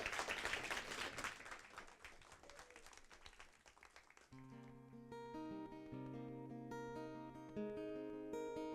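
An audience claps for a singer at a live performance, a close, dense patter of applause that fades after about four seconds into sustained guitar chords and a singing voice.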